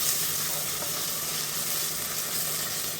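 Ginger and garlic sautéing in hot oil for vegetable rice, a continuous close sizzle and crackle of frying with faint stirring, steady and moderately loud, no talking.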